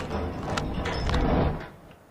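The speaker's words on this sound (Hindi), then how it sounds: "दरवाजा रुक क्यों नहीं रहा?" A lift's sliding door keeps moving instead of stopping, a steady rumbling slide with faint rattles lasting about two seconds before easing off at the end.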